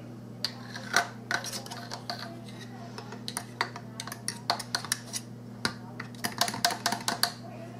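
A metal fork clinks and taps against a dish while spicy chipotle mayonnaise is mixed, producing many quick, close, bright clicks in uneven bursts over a low constant hum, with no one talking.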